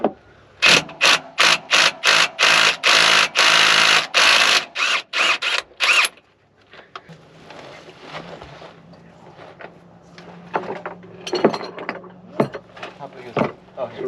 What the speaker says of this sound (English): Give me my 1/2 inch impact